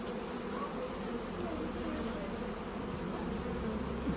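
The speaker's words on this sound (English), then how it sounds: "that was a lot of bees" A swarm of bees hums in a dense, continuous buzz that stays steady and fairly close throughout, with no talking.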